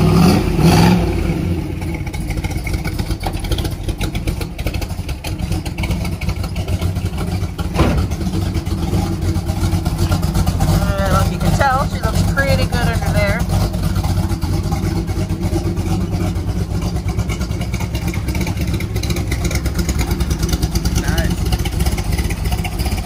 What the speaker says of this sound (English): Getting ready to give us a nice startup.